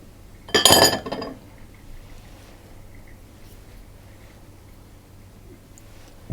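A wire whisk taps sharply against a mixing bowl to knock off thick cake batter for a spiced fruit bundt cake, a brief cluster of bright clinks followed by quiet kitchen stillness.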